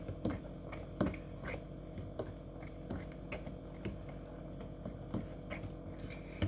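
Jam stirred with baking powder as the mixture foams and rises, giving soft squishy, wet stirring sounds with light clicks of a utensil in a regular rhythm, close and fairly quiet, with no voices.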